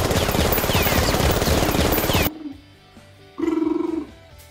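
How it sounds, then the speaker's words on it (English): Firecrackers go off in a dense, continuous string of loud rapid cracks and pops for about two seconds, then cut out, followed by quieter scattered sounds and one more short burst. "the firecrackers"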